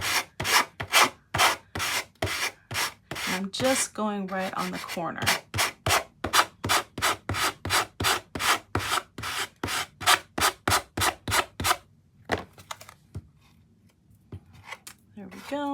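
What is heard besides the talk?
sanding block sanding paper edges of wooden card box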